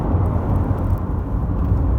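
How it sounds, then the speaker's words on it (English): A 2017 Honda CR-V diesel accelerates hard up through the gears, its engine a steady, loud low drone heard from inside the cabin with no talking. "if we floor the car, and I'm not being hard in the car, first gear, into second gear"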